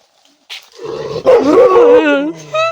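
Big dogs bark at a farmhouse in loud, close, rough bursts mixed with excited human voices talking over them.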